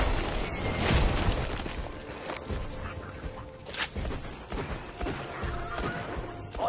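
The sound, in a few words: gunfire in the video game Borderlands 2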